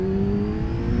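Motorcycle engine at full throttle after a crash rebuild, a steady loud drone with strong low harmonics climbing slightly as it pulls through the rev range, close and continuous with no talk.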